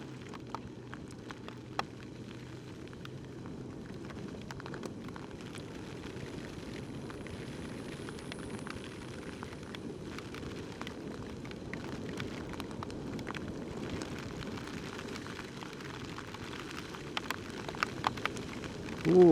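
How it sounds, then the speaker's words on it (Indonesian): Rain falls steadily on the alternative mountain route between Dieng and Pekalongan, a faint, even hiss of drops on surfaces with a few sharper taps and a louder bump at the very end. "Hujan lagi."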